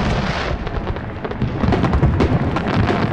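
In Hitman (2016), fireworks give a steady, rumbling crackle of overlapping pops and bangs. It stays loud throughout, with sharper bursts toward the end.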